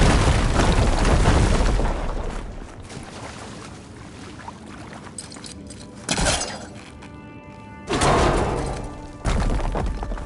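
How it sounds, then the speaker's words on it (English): An explosion from a blown-up fire gleam in Horizon Forbidden West bursts loud and broad at the start, fades into a rumbling tail, and is followed by two shorter booming hits later on. "Should be able to blow up that fire gleam."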